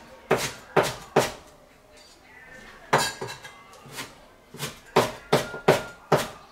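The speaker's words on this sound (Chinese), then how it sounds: "再切点葱姜，" A kitchen knife chops scallion and ginger on a board in sharp, hard knocks, three quick strikes, a pause, then bursts of faster chopping, close and loud with no talk.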